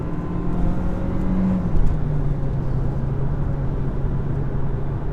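A 2018 VW Golf accelerates out of a corner, its engine a steady low drone with a brief swell of rising revs, heard from inside the cabin with no talk.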